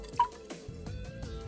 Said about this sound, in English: You hear the water sounds?